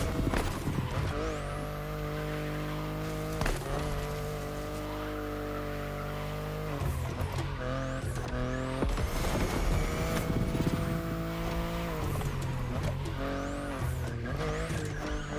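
A BMW races along a mountain road in the video game Crew Motorfest, its engine droning steadily as it rises and falls through gear changes, with repeated tyre squeals on the corners.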